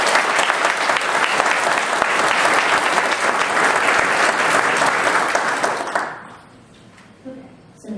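Dense, sustained applause from an audience at a veterans community reception and book signing, loud and even for about six seconds before quickly dying away to near silence.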